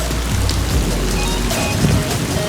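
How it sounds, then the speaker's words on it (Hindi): Steady rain falls outdoors on a wet day, a dense continuous hiss of drops on surfaces with faint wind underneath, loud and close throughout. "वो देखें उस्मान को बारिश इंजॉय कर रहा है"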